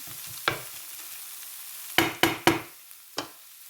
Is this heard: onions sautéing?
yes